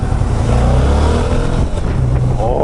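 Suzuki V-Strom 650 motorcycle pulling away in city traffic, its engine droning loud and close with a steady, rising growl that holds for the whole stretch.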